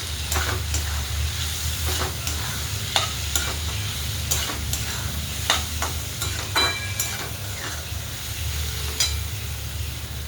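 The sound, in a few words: stirring black masala into cluster bean curry in a pan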